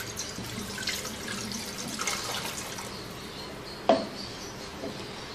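Water runs into a pan for making chicken stock in a home kitchen, a soft steady trickle with a brief clunk near the end, no talking.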